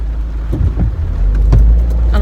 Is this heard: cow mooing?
no